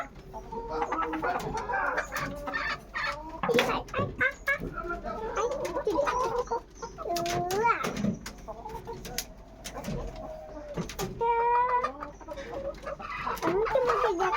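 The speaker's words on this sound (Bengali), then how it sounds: "এখানে আমার কালো মুরগি আছে, লাল ডিম পারে" Chickens, including a black hen, cluck and call repeatedly at close range in a village yard, with bursts of varied squawks and coos overlapping, while a person speaks now and then.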